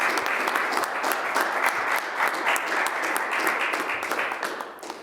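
Sustained, dense applause from a large crowd at a ceremony, steady and loud throughout before tapering slightly at the very end.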